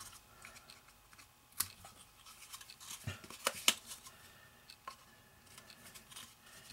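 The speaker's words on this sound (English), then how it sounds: "I'll fold it back and just trim the edges off" Scissors trimming the folded edges of a handmade Santa gift card holder give a few sharp, close snips, scattered and then clustered near the middle, over a quiet background.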